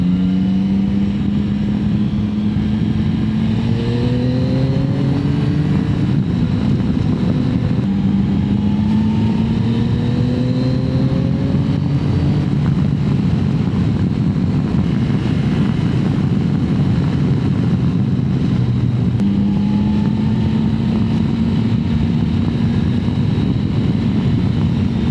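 A 2025 Yamaha Tracer 9 GT ridden on twisty roads, its engine loud and steady under heavy wind rush, with pitch climbing and dropping through several rises and shifts.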